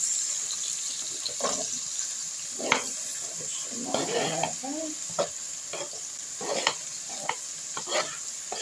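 Eggplant with Scotch bonnet pepper stirred in a hot frying pan, irregular spoon scrapes and clacks over a soft steady sizzle, fairly quiet and close, with a faint voice in the background.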